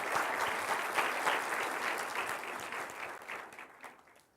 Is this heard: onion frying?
no